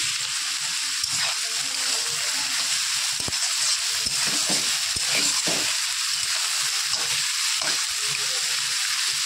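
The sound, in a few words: onions frying in a pan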